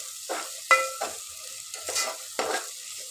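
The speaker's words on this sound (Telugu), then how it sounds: "ఇప్పుడు ఇట్లా మంచిగా ఫ్రై అవుతున్నాయి కదా ఆనియన్స్." Onions and ginger frying in oil for a mutton masala curry: a low, close sizzle broken by several scraping stirs of a spoon against the pan, with no talk.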